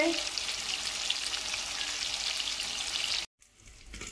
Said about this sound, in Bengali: ইলিশ মাছ ভাজি করছে